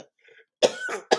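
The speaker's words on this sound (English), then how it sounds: "Forgive me for the cough." Two or three sharp, close coughs in quick succession after a brief quiet moment.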